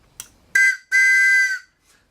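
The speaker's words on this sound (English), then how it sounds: "It's a toy train whistle." A handmade toy train whistle cut from scrap wood gives a short blast and then a longer sustained one, both loud, shrill and close, with a faint echo after.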